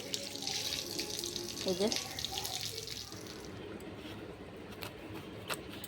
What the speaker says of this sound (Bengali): চলো ধুয়ে আনি একটু। লেবুটা ধুয়ে নিলাম, লেবু নেবো।